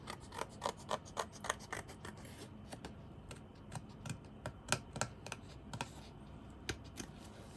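Scissors snip through paper pieces for a handmade Christmas card, giving a run of sharp, close cuts that come in a quick rhythm, then slow to a few scattered snips.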